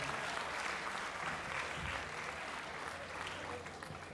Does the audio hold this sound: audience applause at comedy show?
yes